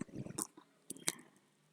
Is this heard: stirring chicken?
yes